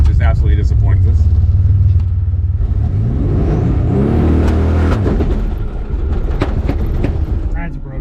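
A turbocharged all-wheel-drive S10 pickup engine revs and pulls hard through its gears, a loud continuous rumble rising and dropping with each shift, with someone talking over it throughout.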